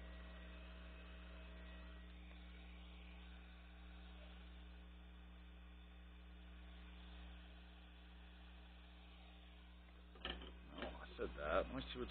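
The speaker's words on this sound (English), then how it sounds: "Turn on my extractor here." Workshop extractor running, a steady low electrical hum and drone held throughout, faint and constant, with a few brief clattering knocks near the end.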